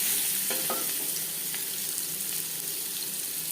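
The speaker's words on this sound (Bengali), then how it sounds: "আলু তেলের সাথে আলু ভালো করে মিক্স করে দেবো" Potato pieces are stirred and fried in hot oil in a pan, giving a continuous close sizzle with soft scraping from the stirring.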